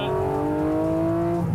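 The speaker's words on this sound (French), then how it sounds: "Écoute-moi le son. Alors, on accélère." A Porsche Cayman GT4 RS with a PDK gearbox accelerates hard, its engine note rising in a steady, loud, close wail that climbs smoothly with no talking over it.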